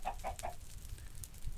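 Chickens clucking in the Minecraft video game, three quick soft clucks in a row at the start, then faint scattered game noise.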